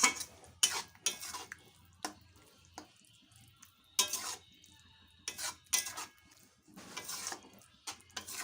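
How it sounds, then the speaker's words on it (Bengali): A spoon scrapes and clinks against a pan as chana dal is stirred with yogurt, with irregular metallic knocks and light wet stirring, close and fairly quiet, no talking. "এভাবে 1 থেকে 2 মিনিট এভাবে নাড়াচাড়া করে নেব।"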